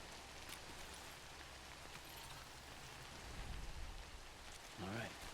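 Steady rain in the video game Death Stranding, a soft continuous wash heard while sheltering in a cave, with a low rumble midway and a short tonal game sound near the end.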